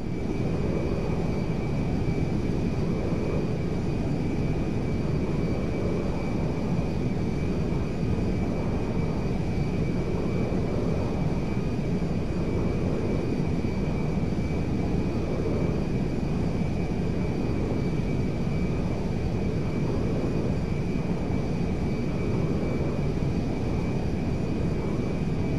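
A jet aircraft flies in GTA V, giving a loud, steady, close engine roar that holds without break, with a faint high whine riding on top and no voices.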